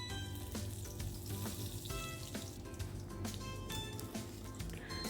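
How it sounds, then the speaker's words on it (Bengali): Black cumin seeds drop into hot mustard oil, giving a steady close sizzle and crackle of frying with light stirring, for a curry of Bengali mustard hilsa. "এবার ফোড়নে আমি দিয়ে দিব একটু কালো জিরে।"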